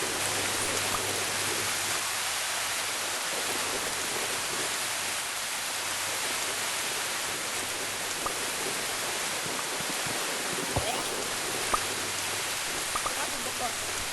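Rain falls steadily in a forest while a shelter is built in a cave, a constant dense patter and hiss with a few sharper drips, faint voices in places.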